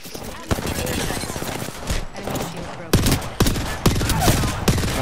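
Rapid gunfire bursts in the Apex Legends battle royale game on the Olympus map, dense automatic fire with sharp louder shots punctuating a busy mix, with people talking over it.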